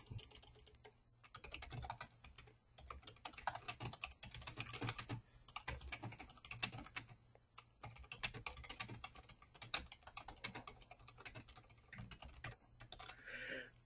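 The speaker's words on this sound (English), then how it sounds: "I'll type that in with you." Rapid, continuous typing on a computer keyboard, quiet and fairly close, with dense irregular key clicks and a few louder strokes running throughout, heard alone.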